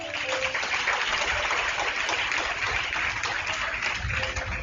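A church congregation applauds the Lord in a sustained, even wash of clapping, dense and steady throughout.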